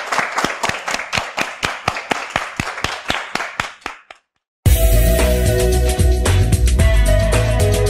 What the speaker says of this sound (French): Je vous demande de vous applaudir.